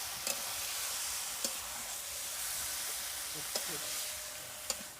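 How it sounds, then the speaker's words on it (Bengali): Chicken being stirred and fried with a cooked spice paste in a village kitchen, with a quiet steady sizzle and occasional sharp clicks of a utensil against the pot. "কষানো মশলার সঙ্গে মাংসটা ভালো করে মিশিয়ে দিচ্ছি"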